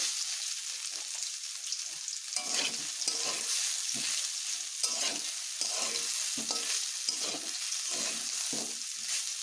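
Crushed garlic fries with spices in a pan, with a spoon stirring through it in rhythmic scraping strokes over a constant loud sizzle, close up and without speech.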